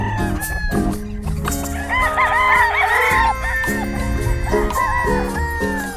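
A Gilmore stag gamefowl rooster on a farm crows loudly and close, several overlapping crows and clucks from nearby fowl filling the moment.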